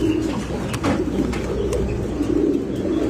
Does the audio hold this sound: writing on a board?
no